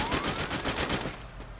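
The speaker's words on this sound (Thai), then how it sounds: "ตอนนี้โดนยิงหลังไม่เห็นศัตรูเลยอะ" Rapid bursts of gunfire in the mobile shooting game Free Fire, a dense rattling volley that stops abruptly about two-thirds of the way through, leaving a thin tone.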